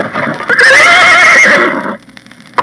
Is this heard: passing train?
no